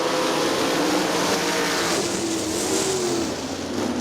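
410 sprint race cars roaring at the start of a race at Crystal Motor Speedway, a dense, loud wall of engine noise with rising pitch as the pack accelerates together.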